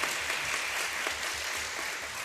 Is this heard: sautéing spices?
no